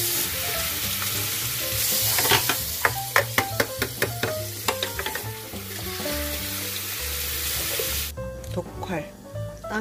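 Korean wild greens, dok-hwal and chamdureup, are blanched in boiling water, giving a steady loud hiss and bubbling with clinks and splashes as they are stirred and lifted out, while a person talks over it.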